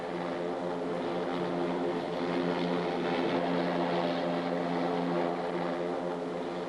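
An AH-56A Cheyenne attack helicopter flies past, its engine and rotor making a steady, loud droning hum with a constant pitch and no break.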